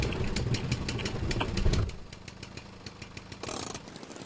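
A worn-out car engine in the video game Jalopy chugs and idles with a rough, rapid mechanical putter, louder at first, then settling into a quieter steady run with light ticking.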